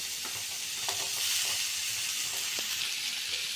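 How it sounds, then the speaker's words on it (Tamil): Potatoes being stirred into fried onion masala in a pan, giving a steady bright sizzle with a few faint scraping strokes across a short stretch, with no talking. "இந்த மசாலாவோடு சேர்த்து நல்லா கிளறிக்கலாம்."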